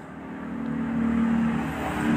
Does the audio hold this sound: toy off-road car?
yes